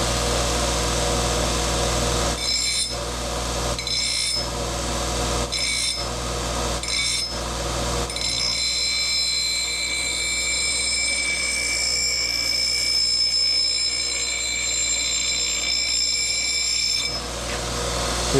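An axe blade being sharpened against a spinning grinding wheel: a steady whining hum broken by short bursts of gritty contact early on, then a longer stretch of continuous grinding.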